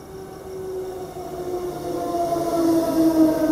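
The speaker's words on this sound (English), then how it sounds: "We have a train approaching platform number 1." A train rumbles steadily closer to a station platform at Booval, Queensland, its drone growing louder over a few seconds, with a sustained tonal whine or horn-like hum rising toward the end.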